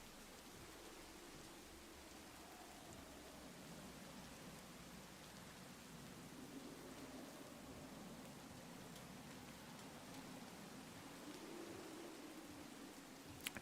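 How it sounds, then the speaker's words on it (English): Steady, loud rain from a Minecraft hardcore survival game, a continuous broadband hiss that holds evenly throughout with no voices over it. "this rain sound is so loud"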